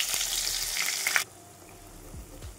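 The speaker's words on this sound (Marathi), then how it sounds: "आता कढीपत्ता आणि आपण केलेला पेस्ट भाजून घेत आपण तेलामध्ये." Curry leaves and spice paste frying in oil, a loud close sizzle for about a second that suddenly drops to a faint hiss with a couple of light clinks.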